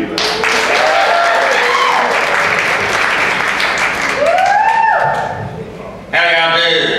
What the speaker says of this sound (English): Y'all make some noise for Bubba Que.